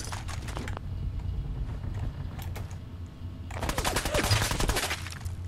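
Gunfire aimed at the player in a Fallout 4 style video game, with scattered sharp shots early on and a loud, dense burst of rapid automatic fire near the end over a low rumble.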